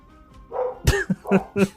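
Wild dogs give a few sharp barks and yips in quick succession, close and fairly loud, with short gaps between them.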